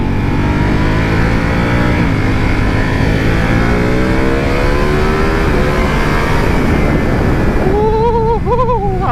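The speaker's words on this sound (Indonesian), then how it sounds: "Akhirnya Panigale V4 nya gue geber juga" A Ducati Panigale V4 motorcycle revs hard on a city road during an early Sunday morning ride. The loud, close engine note climbs and falls in rising sweeps, ending with a sharp, high-pitched rev.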